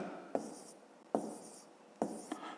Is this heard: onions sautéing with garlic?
no